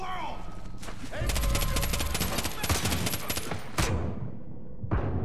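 Rapid close-range gunfire cracks through a Far Cry 5 firefight as the player is shot, a dense volley of sharp shots followed by a few isolated later bangs over a faint background voice.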